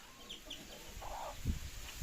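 A naked-neck hen, a breed with no feathers on its neck, gives soft, low clucks in a quiet outdoor setting, with a few faint scattered sounds around it.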